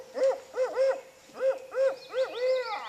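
A guide imitates a barred owl call on a canoe trip along Nassawango Creek near Snow Hill, Maryland, giving a clear series of rhythmic rising and falling hoots, close and alone.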